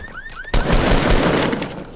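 Rapid automatic gunfire in Fortnite Battle Royale erupts suddenly after a couple of short rising electronic tones, then rattles on as a loud, dense burst to the end.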